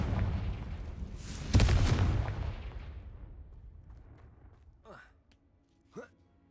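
Confringo fire spell blast in Hogwarts Legacy, a single heavy booming explosion that swells then rumbles away over a few seconds, followed by quiet with two brief breathy vocal sounds.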